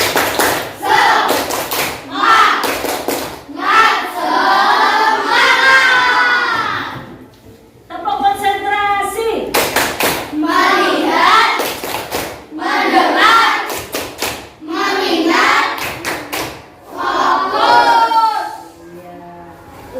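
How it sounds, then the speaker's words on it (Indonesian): Sixth-grade schoolchildren in a classroom perform a rhythmic spirit clap, sharp group claps in set patterns alternating with loud chanted shouts of children's voices, repeated in several bursts. "coba tepuk semangat"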